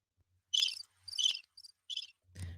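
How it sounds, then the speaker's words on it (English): Crickets chirp in several short, bright bursts, each trill separate and fairly clear, with a low thump at the very end and no talking. "Probably all crickets."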